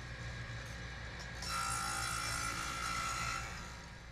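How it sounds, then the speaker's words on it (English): A power saw cutting plywood for boat bulkheads outdoors in a driveway, heard faintly from a distance as a steady whine that swells for a couple of seconds, then fades. "As you may have heard in the background, outside in the driveway, Steve was still motoring away on making the plywood for the bulkheads"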